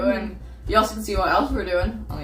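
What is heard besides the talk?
No everyday noises stand out.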